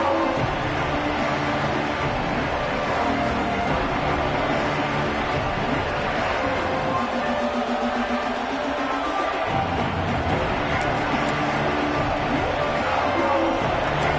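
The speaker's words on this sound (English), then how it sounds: "This crowd bringing an ear-splitting welcome to their visitors." A packed American football stadium crowd roars a loud welcome to the visiting team, a steady broadband wall of cheering that holds for the whole stretch.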